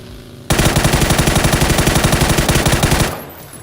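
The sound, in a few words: gunfire in PUBG video game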